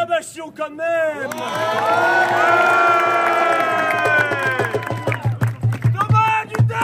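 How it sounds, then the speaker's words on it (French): An audience at a farting contest cheering and whooping loudly, many voices rising together into a sustained roar with shouts and some clapping near the end. "Un petit peu d'acclamation quand même."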